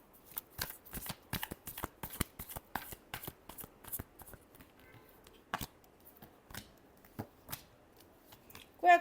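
A deck of cards being shuffled close by, a rapid run of crisp riffling flicks followed by a few slower, separate snaps and a final bridge, with no voices.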